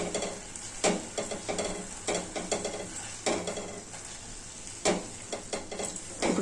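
Tomato and eggplant curry with ground chili powder simmering in a pot, with a spoon stirring and scraping in repeated bursts over a soft, steady sizzle, close by and with no talking.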